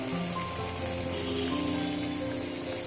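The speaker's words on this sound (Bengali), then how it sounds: "আমাদের তেলটা গরম হয়ে গেছে, আমরা একটা একটা করে ডোনাট দিয়ে দিব। একটা করেই ভাজবো, যেহেতু এটা ভাসা তেলে ভাজতে হবে।" Donuts deep frying one at a time in hot oil, a steady close sizzle with soft bubbling crackle running alone throughout.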